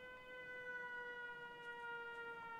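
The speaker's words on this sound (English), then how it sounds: "We still got the air raid siren going on." An air raid siren wails steadily at a distance in the video game Fallout 76, a sustained rising-and-holding tone with no voices over it.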